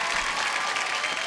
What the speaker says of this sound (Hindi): खासतौर पे सलीम साहब के लिए जोरदार तालियां।